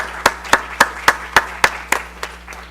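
At a Hindu community gathering, applause comes through as a sparse, evenly spaced series of about ten sharp claps, close and distinct, gradually softening toward the end over a faint steady hum.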